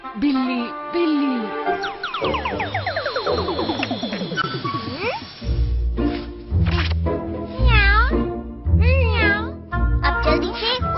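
In a Doraemon cartoon, a character's voice imitates a cat with repeated, exaggerated meows rising and falling in pitch, mixed with a springy sliding sound effect and other cartoon voices.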